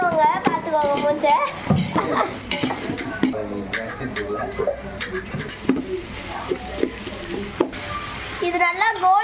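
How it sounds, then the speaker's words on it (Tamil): Whole spices fry and sizzle in a pan for chicken biryani, a steady close crackle with stirring and scraping running underneath continuous talk. "இது நல்லா கோல்டன் ப்ரௌன் ஆக வரைக்கும் ரோஸ்ட் பண்ணணும்"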